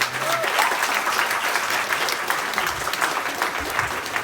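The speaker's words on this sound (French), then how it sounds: "Allez, on fait du bruit pour Arnaud, s'il vous plaît" A crowd claps steadily for a few seconds, a dense, even patter of applause from an audience.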